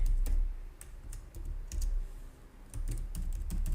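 Someone types on a computer keyboard in a steady run of quick clicks, with a few short pauses between bursts.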